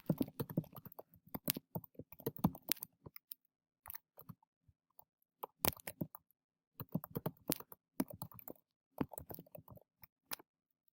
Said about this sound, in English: And then I would type in a message.